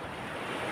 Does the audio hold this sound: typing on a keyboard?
no